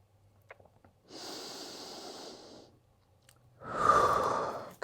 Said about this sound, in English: Breathing through as best you can.